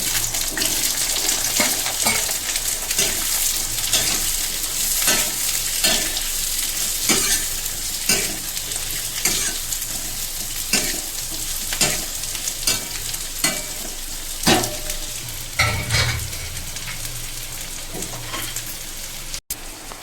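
Sliced onions and chillies frying in hot oil in a pan, a continuous close sizzle broken by repeated scraping stirs, with no voices.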